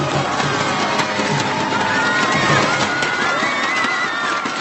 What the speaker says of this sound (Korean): 1위를 박수로 만들어주십시오.